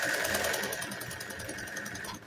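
A vintage Elgin sewing machine sews a straight stitch with a steady, fairly quiet mechanical whir and a fast, even needle patter, without pauses.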